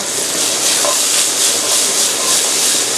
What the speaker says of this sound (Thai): สแนปพีกับพริกลงไปเลยครับผัดอย่างเร็ว